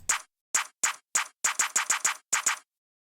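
Sharp, bright clap hits repeat in a loose rhythmic pattern, about a dozen dry snappy strikes with clustered doubles, alone and up close.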